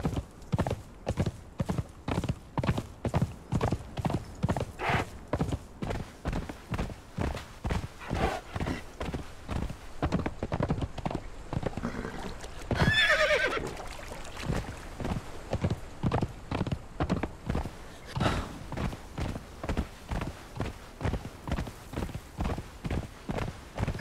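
A horse gallops in the game Conan Exiles, hooves clopping in a quick steady rhythm for the whole stretch, with a whinny partway through.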